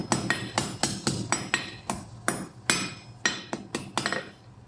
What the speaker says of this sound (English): a step down about half, forging it to half its thickness